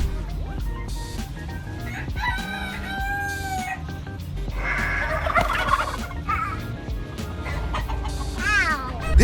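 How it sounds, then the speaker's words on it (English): A turkey gobbles amid a noisy flurry of clucking and squawking fowl, with a rooster crowing and scuffling as it fights the turkey nearby, loud and continuous. "He was taunting a turkey, but the rooster took up the fight in its place."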